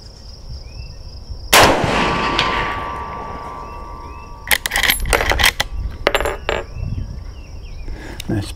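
A single 30-30 rifle shot fired at a target 200 yards away cracks out loud and close, with a ringing tail that fades over a few seconds, followed by a spell of metallic clatter and handling noise.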